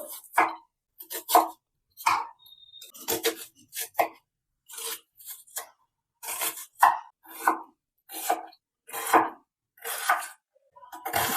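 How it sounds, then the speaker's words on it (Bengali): A knife chops an onion into small pieces on a board, a close series of sharp separate cuts in an uneven rhythm with short pauses between them, with no talking. "এখানে একটা পেঁয়াজ নিয়ে নিয়েছি, এটাকে আমি এবার কেটে নেব। একটু ছোট ছোট করেই কাটবো।"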